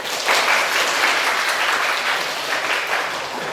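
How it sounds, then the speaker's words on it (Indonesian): A classroom full of students clapping steadily and loudly, a continuous burst of applause with no talking over it. "Mantap, tepuk tangan."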